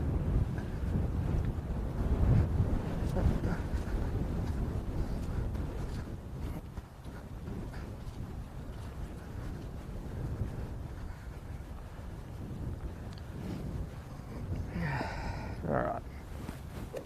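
Wind blows across a golf course from the left, roaring continuously against the microphone in heavy low buffeting, with a brief voice sound late on.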